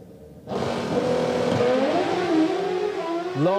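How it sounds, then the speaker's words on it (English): Top Fuel dragster launching down a drag strip at a live event, a sudden blast of engine roar with wavering, chattering tones as the tyres shake, sustained loud and close for a few seconds. "Lots of tyre chatter going on when Alex goes for the centre line"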